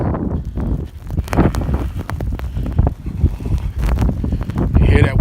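Strong wind blowing through a snowstorm, gusting and buffeting close to the microphone in an uneven, roaring rush, with a voice speaking faintly over it.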